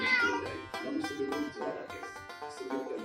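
A pet cat meows several times in a row, sounding fairly close with short, tonal, wavering cries, against a quiet indoor background.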